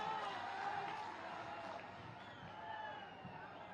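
Large crowd at a political public meeting in Sonkatch, Dewas district, Madhya Pradesh, applauding and cheering to welcome a candidate; dense, steady clapping and crowd noise continues throughout at moderate loudness.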